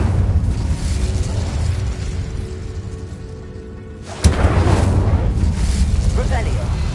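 Incendio fire spell cast in Hogwarts Legacy: a sharp burst erupting from a steady rumbling game soundscape, followed by a loud whooshing roar of flame that carries on to the end.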